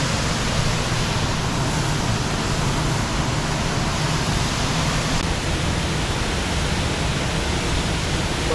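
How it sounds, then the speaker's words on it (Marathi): Bilkas waterfall near Peth and Harsul roars as a loud, dense, unbroken rush of falling water, steady throughout with no voices. "आणि मित्रांनो हा तो धबधबा जो बिलकसचा आहे फेमस"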